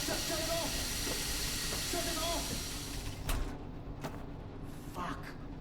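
Steam hissing loudly from a burst pipe in a Metro Awakening game scene, a broad steady hiss that cuts off abruptly partway through, followed by a few sharp thuds and bursts.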